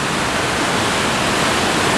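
A waterfall roars in a steady, dense rush of falling water, loud and unbroken throughout.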